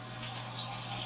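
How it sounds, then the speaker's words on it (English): Hot water runs from a kitchen tap during banana bread baking, a steady, continuous rushing flow that holds even and unbroken throughout, with no voices over it. "I'm going to get hot water on now"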